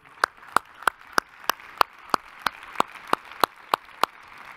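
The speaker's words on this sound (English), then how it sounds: "A round of applause to these partners, please, one more time" Applause for partners at the closing session of a world gathering sounds as a slow, evenly spaced series of about thirteen sharp single claps, crisp and fairly close, against a faint background.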